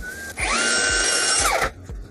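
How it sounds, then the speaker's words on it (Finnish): Power drill boring into a wooden ceiling panel during cabin renovation, a single steady whine of about 1.3 seconds with a rising pitch at the start and a dip as it stops, close and loud, no talking. "Se on turvallinen porata siitä."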